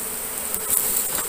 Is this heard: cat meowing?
no